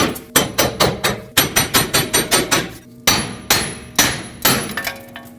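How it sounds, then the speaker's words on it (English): Repeated sharp metal hammer blows knocking a wheel hub assembly out of the steering knuckle on a 2005-2021 Nissan Frontier 2WD, about a dozen loud, close strikes in two quick bursts with a short pause between. "use a hammer, tap this back and forth until it pops out"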